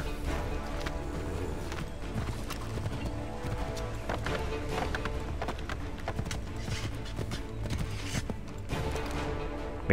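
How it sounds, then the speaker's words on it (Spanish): A horse gallops in Assassin's Creed 3, with rapid rhythmic hoofbeats carrying steadily over a busy game soundscape of background music and ambience, near and continuous. "Ven, caballito."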